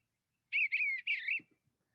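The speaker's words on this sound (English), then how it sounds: "the first one you're going to hear is the sound of a bluebird." A bluebird sings a short warbling phrase of clear, rapid whistled notes in a few connected bursts, alone against silence, followed by faint soft thumps.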